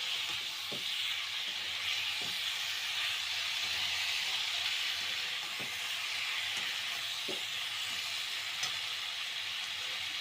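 Cauliflower for a Bengali fulkopir rosa frying in spices, a steady hissing sizzle with occasional scrapes and clinks of stirring, close and unbroken by speech.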